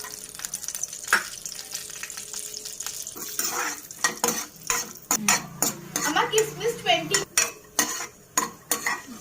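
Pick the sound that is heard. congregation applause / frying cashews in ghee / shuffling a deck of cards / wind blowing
frying cashews in ghee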